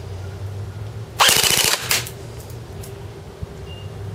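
An Ares H&K G36c airsoft rifle on a 9.6 volt battery fires full auto at roughly 800 to 850 rounds a minute. A short, close, rapid burst of evenly spaced mechanical cracks lasts about half a second over a low steady hum, then stops.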